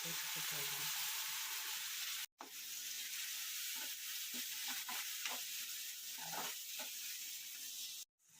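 Homemade sambar powder being stirred into a drumstick curry in a pan, soft scraping and stirring over a low sizzle, broken by two brief silent gaps.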